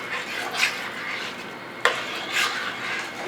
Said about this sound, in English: we're going to add our 2 cups of corn, our 2 cups of peas. Alright, we'll stir that in.